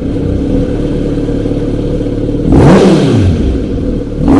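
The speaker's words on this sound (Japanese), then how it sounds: "ではエンジン始動していきます。" A Kawasaki Z900RS motorcycle idles steadily, then its engine is started and revs loudly at about two and a half seconds, the pitch rising and falling before settling into idle, with a second blip near the end.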